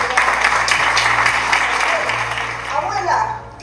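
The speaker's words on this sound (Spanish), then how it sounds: "Y pido un aplauso para Ginés y Vera," Theatre audience applauding actors before a stage performance, a crowd's clapping swelling and then fading over a few seconds, with a voice speaking over it.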